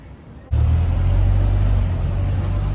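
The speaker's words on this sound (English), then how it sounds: "This is the second bus that I've seen gone up this little road." A bus climbing a narrow little road in Hong Kong, its loud engine roar starting abruptly and holding steady and close with a deep rumble throughout.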